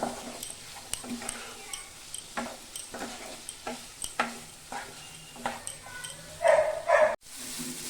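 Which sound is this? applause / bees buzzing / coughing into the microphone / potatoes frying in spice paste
potatoes frying in spice paste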